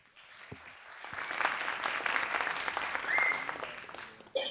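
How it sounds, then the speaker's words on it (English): An audience applauds, the clapping swelling to a steady roar of many hands before fading out; no one speaks over it. "So everybody, a round of applause for Stephanie, please."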